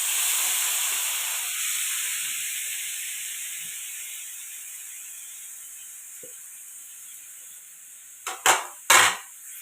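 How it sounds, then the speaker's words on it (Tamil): Grated beetroot sautéing in ghee in a pan for beetroot halwa gives a steady soft hiss that slowly fades, then ends with two brief clattering scrapes of a stirring spoon. "நெய்யிலே இந்த பீட்ரூட்டை நல்லா வதக்கலாம்"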